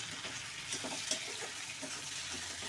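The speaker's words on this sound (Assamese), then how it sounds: "এতিয়া আদা নহৰু পেষ্টটো দি দিছোঁ। এইখিনি লৰাই দিম, সিজিছে অলপ।" Ginger-garlic paste sizzles and fries in a pan while a spoon stirs it, a steady close crackle with light scraping, no voices.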